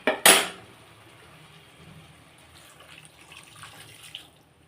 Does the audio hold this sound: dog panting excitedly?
no